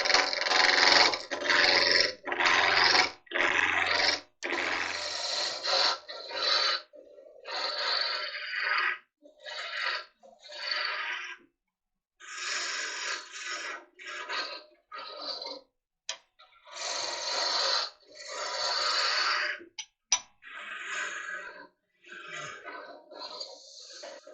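A small wooden blank spins on a lathe and is rounded down into lid knobs; the cutting tool bites in repeated rough, scraping bursts with short pauses, over a low motor hum in the first few seconds.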